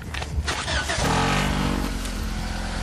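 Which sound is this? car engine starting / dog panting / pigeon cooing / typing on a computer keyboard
car engine starting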